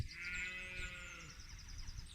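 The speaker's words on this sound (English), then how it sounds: "It's actually a sheep. I know it sounds like a cow," A sheep gives one long, deep, low bleat that sounds much like a cow's moo, heard clearly outdoors with no talk over it.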